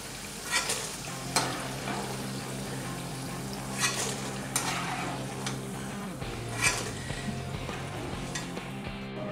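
Ginger garlic paste sizzles and fries in a tablespoon of oil in a kadhai, a steady close crackle broken by sharp spoon-stirring scrapes, with no talking.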